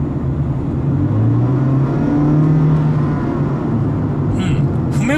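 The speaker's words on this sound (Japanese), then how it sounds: "踏み込むとね、元気なエンジン音が聞こえてきますね。" Honda Freed Hybrid with a VTEC engine revving under acceleration from inside the cabin, engine note rising steadily then easing, with a person talking over it.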